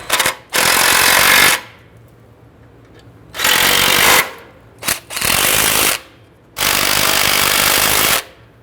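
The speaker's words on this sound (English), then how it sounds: "using our 14mm socket, we go ahead and tighten everything down" A power tool with a 14mm socket tightens bolts on a starter bracket of a 2008-2013 Infiniti G37x 3.7L V6 in four loud, close, rattling bursts of about a second each, separated by short quiet gaps.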